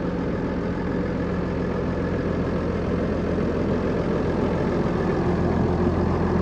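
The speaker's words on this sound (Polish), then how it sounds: "u nas kolejny ładny traktor do sprzedania, Case Puma 140" A Case Puma 140 six-cylinder tractor, 170 hp, idles steadily with a low, even diesel rumble, close and unchanging throughout with no voices.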